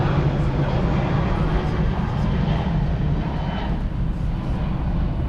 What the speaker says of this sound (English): we'll just let the plane pass